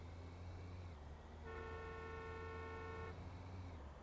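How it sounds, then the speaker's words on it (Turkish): A car horn sounds in city traffic in the driving simulator game Taxi Life, one steady toot of about a second and a half over a low engine hum. "Ve şu an bunlar kendi halinde kornaya basıp duruyorlar."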